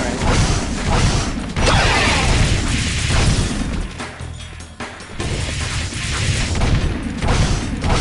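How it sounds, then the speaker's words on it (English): Rapid machine-gun fire in the Jak II Renegade video game, sustained dense bursts with mechanical clatter and booms running almost the whole way, briefly thinning near the middle. "Oh, you have a machine gun, that's how you shoot."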